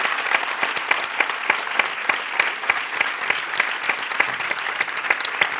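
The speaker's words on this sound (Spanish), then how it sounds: "para quienes pido un aplauso." Sustained audience applause at an event inaugurating the Faro de la Abadía, dense steady clapping from a large crowd lasting throughout without pause.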